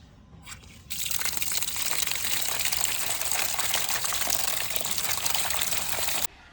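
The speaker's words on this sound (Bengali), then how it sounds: "এবারে মাছগুলোকে পরিষ্কার করে ধুয়ে নেব" Tap water gushes steadily for several seconds while freshly cut river fish are washed, a close, loud, even rush that starts abruptly after a brief quiet moment and cuts off sharply at the end.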